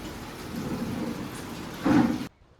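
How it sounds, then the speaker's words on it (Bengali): Rain falls outside during a downpour at the seaside town of Digha, a steady hiss with a louder rumbling burst of thunder near the end before it cuts off. "বাইরে বৃষ্টি পড়ছে"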